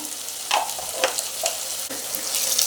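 Oil fries in a pan with the lid off, a fizzing sizzle punctuated by several sharp stirring clicks at close range.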